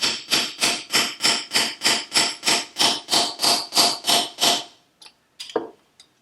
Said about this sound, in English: I got my small carburetor tapping hammer.